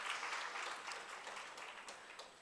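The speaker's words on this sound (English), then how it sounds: "can we have another big round of applause for our both speakers for this morning?" A lecture audience at a dental diagnosis seminar gives a round of applause, a faint, even patter of many hands heard from a distance.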